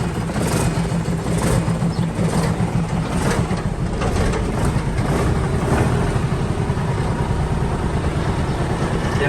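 The air compressor on a Hino 12-wheel truck with a P11C engine pumps with a rapid rhythmic chug, layered over the heavy engine's steady low rumble up close.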